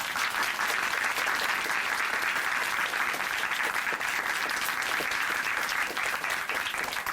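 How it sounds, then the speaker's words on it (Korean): A studio audience at a Christian television program gives sustained, even applause of thanks to a guest who shared her testimony, a full, steady wash of clapping with no talking. "다시 한번 감사의 박수 보내드릴게요"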